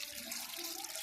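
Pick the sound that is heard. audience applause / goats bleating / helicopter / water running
water running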